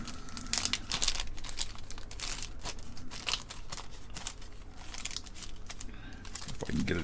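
A compact flash card is worked out of a small crinkly plastic bag, giving close, continuous rustling and crinkling with sharper crackles throughout.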